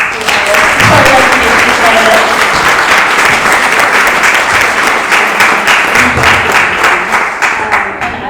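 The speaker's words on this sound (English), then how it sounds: "Let's give a round of applause to our" A loud, close round of audience applause at a candidate forum, dense clapping that swells and carries on for several seconds before tapering at the end.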